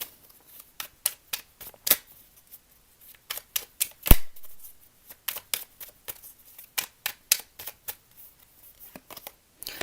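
Tarot cards being handled and shuffled, giving a string of crisp, close flicks and snaps at uneven intervals with one sharper knock in the middle, no talking.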